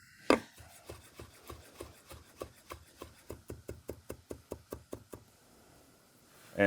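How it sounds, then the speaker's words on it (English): A knife rough-chopping rinsed vegetables on a cutting board, a steady run of about twenty crisp, even knocks, close and clear, with a louder thump at the start and another at the end. "and give them a rough chop"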